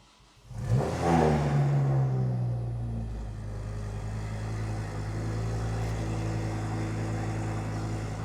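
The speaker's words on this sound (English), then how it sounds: "Now if we start this up, this is an absolute Asbo car." A Ford Focus ST Mark II engine fires up loudly, settling from a sharp starting roar into a deep, steady rumbling idle that carries on alone throughout.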